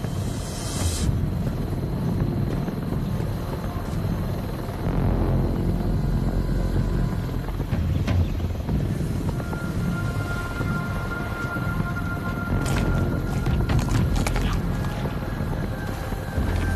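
A helicopter in the VR game Arizona Sunshine 2 gives a steady, loud rotor and engine roar with a windy rush that holds throughout, with sharper clanks near the end.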